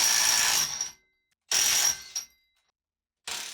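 Makita DTW300 18V cordless impact wrench at its 443 Nm torque setting, hammering in two loud, close bursts of about a second each, with a third starting at the end and silent gaps between.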